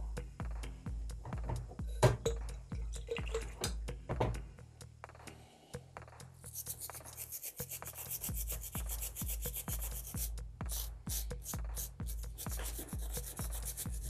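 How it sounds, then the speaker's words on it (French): A hard brush scrubs a varnished figurine in steady, rapid back-and-forth strokes, close and continuous for the whole stretch, with brief pauses and a brighter, harsher scratching texture in the later half. "Faut frotter, c'est une brosse dure"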